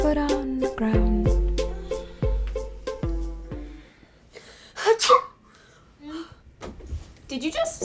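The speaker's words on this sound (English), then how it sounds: "Did you just sneeze?" A single sharp sneeze bursts out midway, close and loud, after a passage of music that drops away, with faint breathy sounds afterward.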